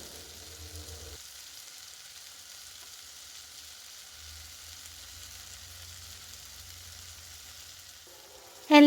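Slit green chillies and ginger garlic paste sautéing for a liver curry, a soft, even sizzle that runs steadily close by before a brief louder clatter at the end.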